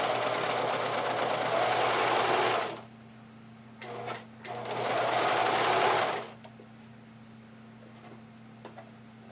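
A sewing machine stitches stretch lace trim for lingerie in two close, steady whirring bursts with a pause between, then its motor hums quietly with faint clicks.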